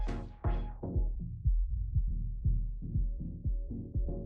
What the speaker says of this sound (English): the filter is following the shape of the audio right now